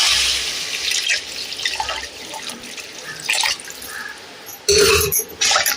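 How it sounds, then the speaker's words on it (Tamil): Water is poured into poricha kuzhambu, a Tamil curry, in a few splashing bursts over a steady background hiss, with the loudest pour near the end. "தண்ணி சேர்த்துப்போம்"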